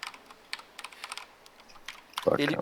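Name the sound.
typing on a computer keyboard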